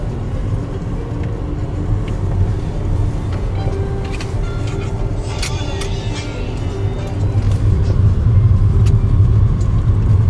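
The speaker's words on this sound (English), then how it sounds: "This is the signature car for the Datai." A Bentley Flying Spur drives along, its low engine and road rumble steady and close inside the cabin, swelling slightly toward the end, with faint voices in the background.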